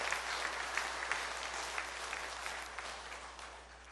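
A church congregation at a founding anniversary Sunday service claps steadily together, a dense sustained wash of applause that fades slightly toward the end, with no voices over it.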